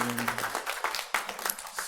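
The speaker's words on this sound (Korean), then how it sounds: "우리 자매님 잠깐 일어나시면 박수로 환영하도록 하겠습니다" Applause from a church congregation welcoming visiting guests during a Korean Sunday worship service, a brief burst of scattered clapping that follows a voice and fades unevenly.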